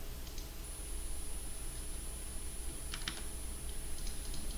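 Keys on a computer keyboard tap in short, sparse clusters during Python coding, faint and close over a steady hiss of background noise.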